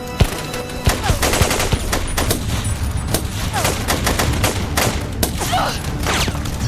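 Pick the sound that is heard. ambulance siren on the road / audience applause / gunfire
gunfire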